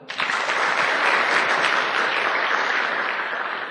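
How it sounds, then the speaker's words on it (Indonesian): Sustained audience applause, dense clapping at a motivational network-marketing seminar, loud and steady throughout before tapering slightly at the end. "Aplaus buat Anda lah"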